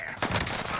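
Gunfire in Call of Duty: Warzone, a quick burst of several close shots that keeps rattling through under a dense game mix for just under a second.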